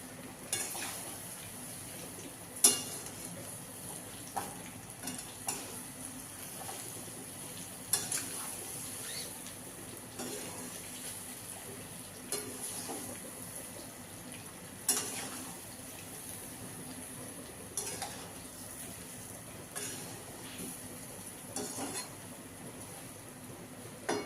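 Spices crackle as they temper in hot oil for colocasia leaf patra, a faint sizzle running the whole time, broken by frequent light clinks and scrapes of a spoon against the pan.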